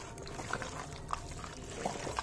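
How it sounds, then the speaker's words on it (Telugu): A small amount of cooking oil is poured into a marinating mango chicken mixture, giving soft, faint liquid dribbles with a few brief splashy accents over a quiet background. "ఈ ఆయిల్ కూడా వేసుకొని కలుపుకుందాం."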